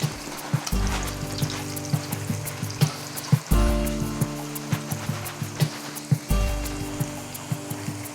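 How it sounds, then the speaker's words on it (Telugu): Raw banana slices frying in oil over a medium flame, a steady sizzle broken by sharp clicks and knocks of a utensil turning the pieces, close and clear with no voices. "రెండు వైపులా తిరిగేసుకుంటూ క్రిస్పీగా అయ్యే వరకు ఫ్రై చేసుకోవాలి"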